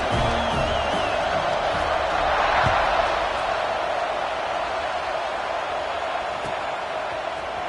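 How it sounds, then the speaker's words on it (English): Stadium crowd at a college football game between Missouri and Washington keeps up a steady, loud buzzing roar with brief swells of cheering, continuous across the whole stretch. "this crowd is buzzing after that last score"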